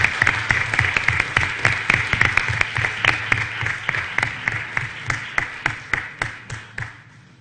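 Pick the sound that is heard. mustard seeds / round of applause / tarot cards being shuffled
round of applause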